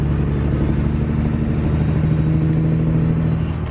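A semi truck with an 18-speed transmission is heard from the cab while upshifting into ninth gear, giving a steady close engine drone with a faint high whine above it.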